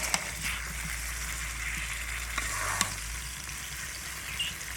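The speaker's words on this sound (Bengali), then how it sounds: "এবার কুলগুনা কিছুক্ষণ নেড়ে চেড়ে জাল দিয়ে সেদ্ধ করে নেবো।" Jujube fruit stirred and simmered in oil spiced with dried chili and salt for a pickle, giving a steady close sizzle with faint scraping stirs and a few clinks, no talk.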